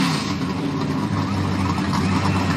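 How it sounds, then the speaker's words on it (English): Several NASCAR race car engines rumble at Charlotte Motor Speedway, a loud, continuous low roar of idling and revving motors close by with no talk over it. "Now, drivers, start your engines."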